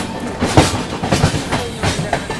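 An Indian express train, the Tamil Nadu Superfast Express, rolls over a track crossing just after leaving Chennai, giving loud, close rhythmic clickety-clack wheel impacts over steady rumbling noise.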